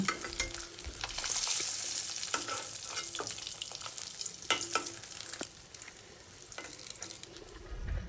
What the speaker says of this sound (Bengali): ডিমগুলো আমি তেলে ভেজে নেব, লাল লাল করে ভেজে নেব